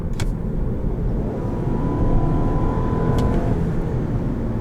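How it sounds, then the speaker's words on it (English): A 2017 Volkswagen Passat SEL Premium engine is floored to trigger the kick-down, a loud steady low drone heard from inside the cabin with rising strain and two faint clicks. "In the throttle pedal, you do have a kick down function, so if you were to floor it,"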